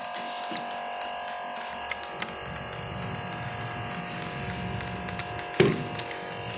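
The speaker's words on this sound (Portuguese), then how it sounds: "A máquina de fumaça tá aqui. Gerando mais fumaça" A smoke machine runs under strain during a seal and canister leak test on a Fiat Uno Fire Flex, giving a steady electric buzz with a few faint knocks and one sharp clunk near the end.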